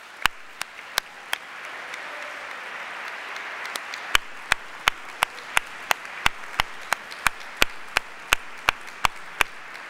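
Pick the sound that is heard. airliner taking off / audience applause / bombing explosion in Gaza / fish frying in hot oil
audience applause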